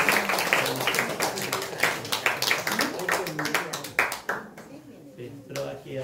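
A church congregation claps during a Sunday worship service, a dense burst of many hands slapping in quick succession, loud and close, thinning out toward the end with voices underneath.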